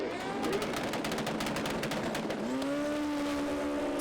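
A drag racing motorcycle at the FIM Super Street Bike Euro Finals launching off the line, a rapid-firing engine roar that rises into a climbing whine partway through, heard from a distance with no talk.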